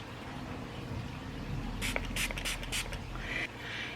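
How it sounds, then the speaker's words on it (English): Lime juice sprayed from a small bottle onto underarms: a quick series of about five short, soft hissing spritzes in close succession, quiet and close, with no talking. "we're going to take that lime juice and we're going to give it a couple of sprays on each arm"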